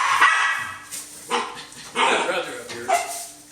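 Litter of puppies barking in a pen: several short, high yips and barks come in bursts with pauses between, close by, mixed with human talk.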